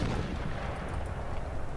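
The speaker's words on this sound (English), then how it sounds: "Why can't I set my cannons to fire at that now?" Cannon fire from an 18th-century Prussian army in the strategy game Empire Total War, with heavy overlapping booms and rumbling gunfire rolling continuously through a loud battle soundscape.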